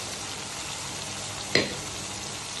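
Bitter gourd frying with green chili and onion gives a steady, even sizzle throughout, broken once by a single sharp utensil tap near the middle.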